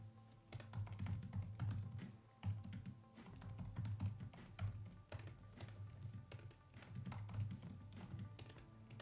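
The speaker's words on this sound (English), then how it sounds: "let me try to type on the keyboard." Typing on the keyboard of a 2020 13-inch MacBook Pro, a quiet, rapid run of close, soft key clicks and taps in an irregular rhythm, with no talk.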